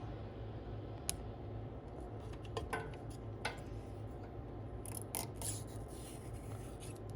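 Old protective film peeling off a 30-year-old Nintendo Red Tent during restoration, making faint scratchy rubbing and crinkling with a few sharper rips scattered through a quiet, steady background.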